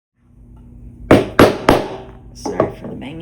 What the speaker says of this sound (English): So we're going to punch that same size hole.